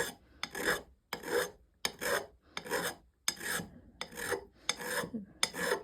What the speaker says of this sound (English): I need a different file for that.